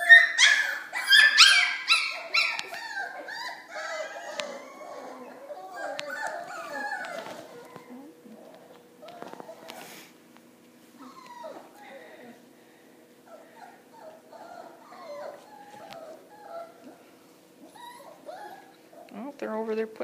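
Puppies of two ages whimper, yip and give small barks while tumbling over each other indoors, busiest and loudest at first and then quieter and scattered, with a person talking at times.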